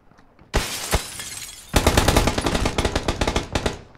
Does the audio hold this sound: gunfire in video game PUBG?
yes